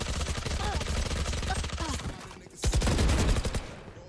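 Rapid, continuous automatic gunfire from a first-person shooter game, loud and close, rattling without a break apart from a brief pause midway before the shooting resumes.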